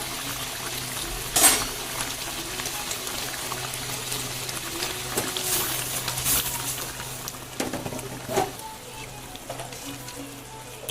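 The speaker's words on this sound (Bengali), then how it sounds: "বোম্বাই মরিচ দিয়া হাঁসের ডিম রান্না করছি" Duck egg curry with Bombay chilli simmers in a pan with a soft, steady bubbling and crackle, broken by a few brief clinks and knocks.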